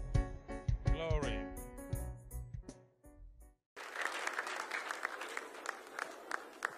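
A gospel church congregation breaks into hand clapping right after music with singing and a pause, a loud, dense applause of many hands filling the room.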